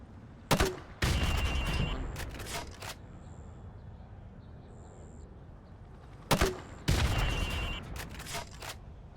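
Grenade launcher rounds fired at building windows in Call of Duty Modern Warfare: two separate clusters of sharp, loud blasts with rapid follow-up bangs, each trailing into a rumbling decay, separated by several seconds of low background.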